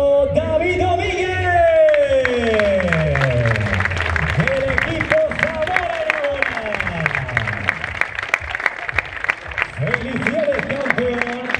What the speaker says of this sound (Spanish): El aplauso, David Domínguez.